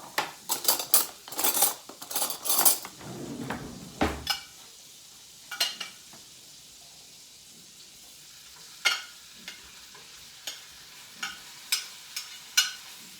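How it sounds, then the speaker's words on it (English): Caribou meat searing in a hot buttered pan, with a soft sizzle under sharp metal utensil clinks and scrapes, busy at first, then sparser single clicks spaced out near the end. "So you want your pan hot for this because you kind of want to sear your meat."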